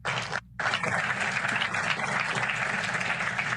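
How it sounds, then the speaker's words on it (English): Audience applause for panelists at a discussion event, a steady wash of clapping from the room that continues evenly after a brief dip at the start. "Everyone, please give a warm round of applause to our panelists."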